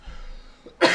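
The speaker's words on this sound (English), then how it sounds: "Got to get this cough under control" A single sharp human cough bursts out near the end after a moment of quiet, close and loud.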